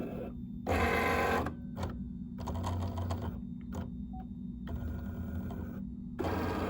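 A dusty Cricut cutting machine scans for the edge of the print area, giving quiet, stop-start motor whirs and buzzing bursts of its moving carriage with short pauses between them.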